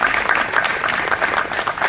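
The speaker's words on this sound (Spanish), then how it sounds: "Aplausos, por favor." Audience applause at the BAFICI 2019 film festival awards ceremony, a steady, dense wash of many hands clapping that holds evenly throughout.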